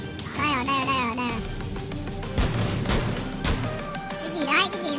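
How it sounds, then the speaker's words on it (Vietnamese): Several sharp gunshots crack out amid a Rules of Survival match, scattered and fairly distant, under a voice talking over the action. "tôi nghe tiếng súng rồi"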